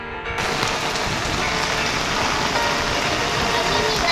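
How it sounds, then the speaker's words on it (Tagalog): Steady rain falling at a Baguio tourist attraction, a dense, even hiss of drops on surfaces filling the whole stretch, with faint background rumble and no clear talk. "it's raining guys"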